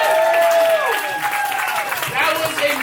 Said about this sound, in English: clap it up for the players!